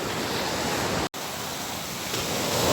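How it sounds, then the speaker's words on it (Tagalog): Loud sea waves roll in at San Antonio, a steady, heavy surf roar filling the scene up close, broken by a short dropout partway through, then continuing. "ang lalakas po ng sound ng alon"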